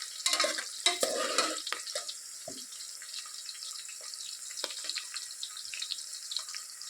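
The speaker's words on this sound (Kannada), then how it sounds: "ಈರುಳ್ಳಿ ಒಂದು ಸ್ವಲ್ಪ ಚೆನ್ನಾಗಿ ಗೋಲ್ಡನ್ ಬ್ರೌನ್ ಬರೋವರೆಗೂ ಸ್ವಲ್ಪ ಈ ಥರ ಎಣ್ಣೆಲಿ ಫ್ರೈ ಮಾಡ್ಕೊಳತ್ತೀನಿ." Chopped onions fry in oil in a pan, giving a soft steady sizzle with scraping stirs near the start and quieter crackling that continues on its own.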